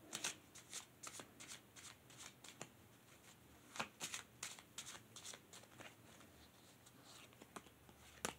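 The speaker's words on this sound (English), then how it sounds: "we'll pick three cards for you. Let's get some oracle cards." Oracle cards are shuffled by hand close by and quietly, in irregular riffling bursts and soft flicks spread across several seconds.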